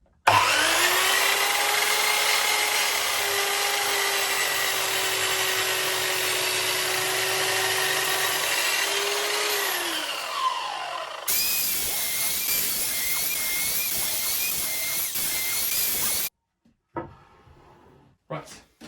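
A table saw blade spins up to a loud, steady whine and holds for several seconds while crosscutting wood pieces for floating shelves to uniform length, then winds down; quieter workshop rustling and thumps follow.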